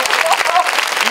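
An audience applauds at a live event with voice actors, a dense, loud wash of clapping from a crowd that runs the whole moment, with a voice speaking over it.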